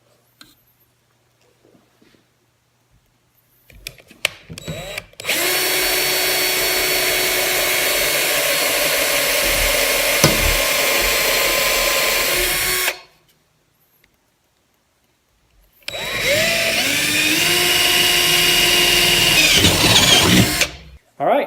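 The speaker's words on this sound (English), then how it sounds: "I'm going to use a metal bit here, and I've got a little water, so I'm going to dip the bit in the water as I drill that aluminum" A power drill with a metal bit, dipped in water, bores into aluminum in two sustained whining runs, one about eight seconds and a shorter second one, loud and close with a pause between.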